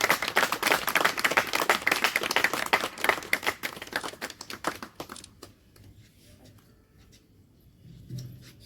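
Loud applause from participants at a theatre script-writing workshop, sharp irregular claps for about five seconds that thin out and fade, leaving a quiet room with faint rustling.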